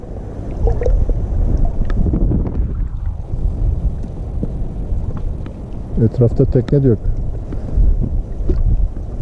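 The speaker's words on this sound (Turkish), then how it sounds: "rüzgar çok kuvvetli" Strong wind buffets the microphone with a constant low roar throughout, while someone talks over it near a boat on open water.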